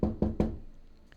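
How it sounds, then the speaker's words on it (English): Three sharp knocks on a door in quick even succession, close and distinct, each ringing briefly before fading into quiet. "Her inspired work was interrupted by a knock on the door."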